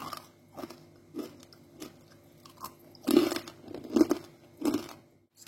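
Crunchy Lombok kue tarik cookies are bitten and chewed up close, making repeated crisp crunches that grow louder and more rhythmic toward the end, with no talking.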